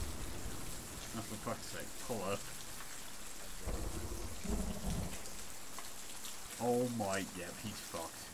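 A thunderstorm with rain gives a continuous rain hiss and low rumbles of thunder, while people talk faintly and intermittently over it.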